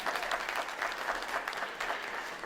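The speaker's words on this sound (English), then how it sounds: "Can we get a round of applause for that?" Steady applause from a seated audience at a veterans' forum, dense clapping that holds at an even level for the whole stretch without a break.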